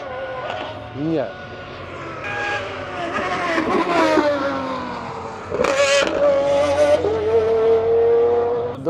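Race cars roar past on the Nürburgring, engines rising and falling in pitch as they pass close by, with someone talking excitedly over them.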